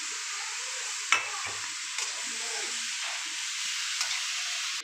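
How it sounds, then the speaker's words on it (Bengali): Greens with crushed green chili frying in a wok, a close steady sizzle and hiss with a few sharp scrapes and clicks from stirring, no voices. "শাকটাকে একটু আমি কড়াইতে মজিয়ে নেব।"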